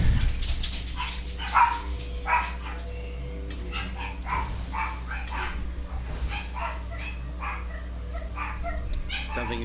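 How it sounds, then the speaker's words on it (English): Several dogs bark and yip repeatedly in Mass Effect Remastered, a busy run of sharp barks at mid distance over a constant low background hum, with occasional whimpers mixed in. "And there go all the dogs again."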